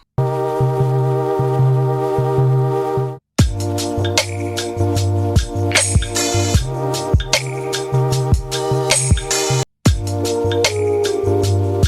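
A bright synthesizer melody from the Massive preset Helix plays over a steady sustained bass, with plucky rhythmic notes. It stops briefly twice before continuing.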